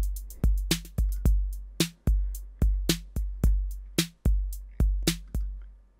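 A Roland Cloud TR-808 drum machine pattern plays in Logic Pro X, with a steady groove of deep booming kicks, sharp snappy hits and crisp ticking hi-hats. It comes through loud and alone, with no talking.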